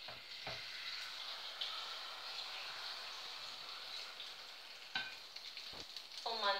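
Sliced potatoes and egg for a Spanish tortilla fry in a pan with a steady, close hiss and crackle, a few sharper pops and clinks breaking through near the end.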